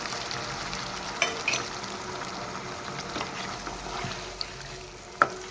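Chicken and cauliflower curry sizzling steadily in a pan after a splash of water is added, a continuous soft frying hiss with a few sharp clinks of a utensil against the pot.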